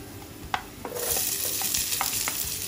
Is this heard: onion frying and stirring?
yes